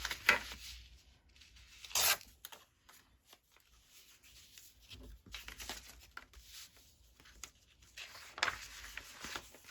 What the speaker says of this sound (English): I'll tear it a bit wider than what I think I need.